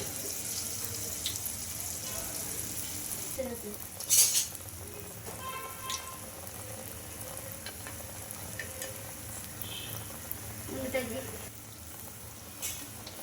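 Coconut pongadalu fritters frying in hot oil, a soft continuous sizzle with occasional clinks and scrapes of a utensil stirring and turning them, steady and close with no talk.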